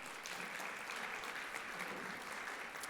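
Steady audience applause fills a conference hall for newly certified healthcare IT members, a dense, even clatter of many hands held at a constant moderate level throughout.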